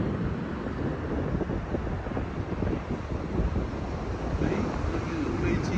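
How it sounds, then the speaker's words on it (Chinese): Strong typhoon wind buffets the microphone at a beach while rough sea waves surge and crash in a continuous, loud roar with no clear pauses. "今天的风浪很大，所以说连出海都没办法"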